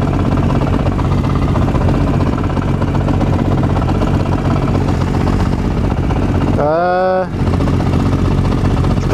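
A Honda CRF 450 SM supermoto motorcycle engine runs steadily and loudly throughout, with a brief voice breaking in near the end.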